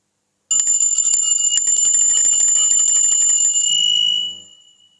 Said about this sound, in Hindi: जब हम घंटी बजाते हैं, ठीक है, तो ये चीज़ जो होती है, जो साउंड होता है